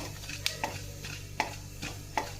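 Black cumin seeds fry in oil in a pan, with a soft sizzle running underneath. A utensil stirs and taps against the pan every half second or so, each tap a crisp clink.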